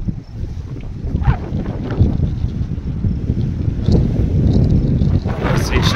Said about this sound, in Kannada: ಎಷ್ಟು ಗಾಳಿ ಬರ್ತದೆ ಅಂದ್ರೆ